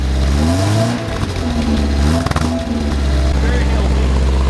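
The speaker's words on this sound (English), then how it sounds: "rev it up a little bit for me?" An old Lexus car engine revving: a loud nearby idle that rises and falls in a couple of revs, with people talking over it.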